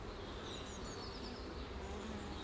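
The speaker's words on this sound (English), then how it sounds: "There are so many bees in here, it's kind of crazy." A swarm of bees buzzes steadily at a beehive, a dense continuous hum with several brief closer passes of individual insects whining by.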